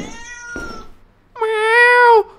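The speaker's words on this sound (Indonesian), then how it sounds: "Suara kucing!" A cat meows in the horror video game Akkai Onna, one loud drawn-out harmonic cry close to the listener, after a quieter cat sound and a brief knock.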